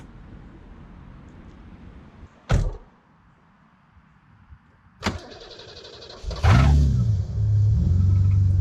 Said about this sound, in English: we can lower the car, start her up, and let it idle for a bit